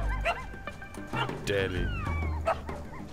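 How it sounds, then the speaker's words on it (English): A badger barks in the video game Shelter: several short, yappy barks over the game's soundscape, mixed in with someone talking. "Cool, I can bark."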